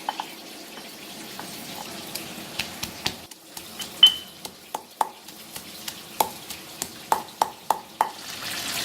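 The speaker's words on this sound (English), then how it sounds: "While the fish is cooking, I'm pounding the chili." Red chili and chili padi pounded by hand, a series of sharp, irregular knocks and thuds spaced unevenly, moderately close, over a faint background of frying fish in a kitchen, with no talking.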